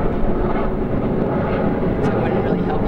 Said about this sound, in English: You want to wait for the plane?